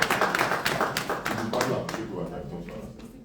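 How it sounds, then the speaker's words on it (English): An audience at a meet-and-greet event in Toronto claps in a burst of scattered applause that thins out and fades over a few seconds, with voices mixed in. "Please clap for him."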